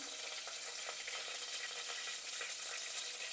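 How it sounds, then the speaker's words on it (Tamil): Fenugreek seeds and a few garlic cloves frying in hot oil, a continuous bright sizzle and crackle with small pops, steady and close with no talking. "வெந்தயம் நல்லா பொரியட்டும்"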